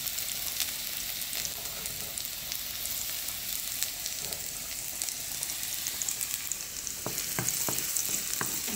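Rice frying with garlic in a pan, a steady broad sizzle throughout with a few sharp stirring scrapes toward the end, close and fairly loud with no talk.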